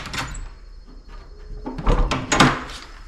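An old locked door in an abandoned house is tugged and rattled, giving a few short knocks and creaks in bursts, with a louder clatter near the end.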